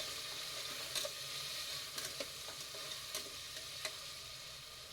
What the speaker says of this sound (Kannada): ನೋಡಿ ಈ ಥರ ಫುಲ್ ಎಣ್ಣೆಲೆ ಫ್ರೈ ಮಾಡೋದು.